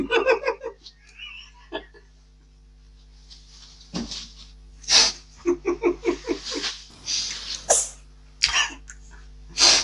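Several sneezes and coughs come up in a cluttered room during a house clear-out, bursting one after another in a loose irregular series. Brief voices and background noises sit between them.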